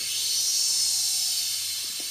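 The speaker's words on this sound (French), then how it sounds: "On entend un fort grésillement." Loud, steady static hiss from a powered-up 433 MHz radio receiver on an Arduino intrusion-alarm bench setup, an even crackling wash with a faint low hum beneath it and no talking.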